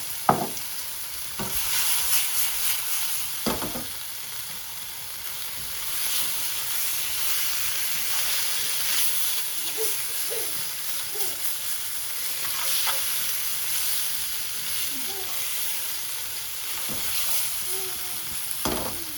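Lamb and spices, including chili powder, fry in oil in a pan with a continuous close sizzle, broken by occasional clicks and stirring scrapes, with no voices.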